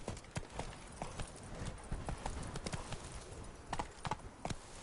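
Hoofbeats of Geralt's horse Roach in The Witcher 3: Blood and Wine, a steady clip-clop of galloping hooves running throughout at moderate loudness, with faint ambient game sounds behind.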